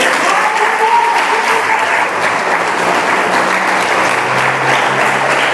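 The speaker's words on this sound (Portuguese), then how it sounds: "Você pode aplaudir Jesus por isso?" A church audience applauds loudly at an evening Pentecostal-style service, a dense, sustained roar of many clapping hands that holds steady, with a faint voice or music tone underneath.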